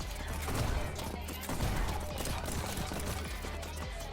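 Rapid gunfire from the fast-paced first-person game Neon White fills the mix with dense, loud bursts and clattering shots over a steady game soundtrack.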